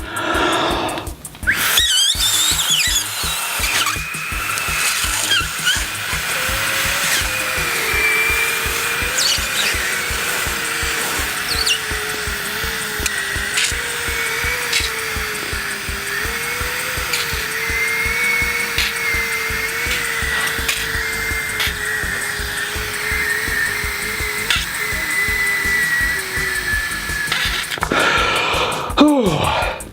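A long, steady breath blown into a breathalyzer, producing a wavering whistly tone over airy rushing noise that runs for nearly half a minute.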